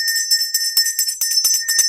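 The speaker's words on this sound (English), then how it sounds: "Let's ring the bell to cleanse some of the energy up in here." A small bell is shaken indoors to cleanse a room, giving a rapid, close, bright jingling with many quick strikes that ring continuously for about two seconds.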